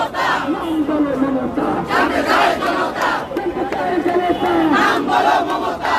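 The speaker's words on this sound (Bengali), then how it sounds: "আমরা দেখছি এই মুহূর্তে তারা স্লোগান দিচ্ছেন" A large crowd of protesters in Dhaka chanting slogans in loud, rhythmic unison, voices rising and falling in repeated call-like bursts, dense and close throughout.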